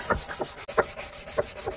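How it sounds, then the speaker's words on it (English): A tiny cleaver-style knife is drawn across a diamond sharpening plate to raise a burr, giving a series of rhythmic, gritty rasping strokes, close and fairly clear, with no talk. "gonna be using the diamond plate to create a strong burr first"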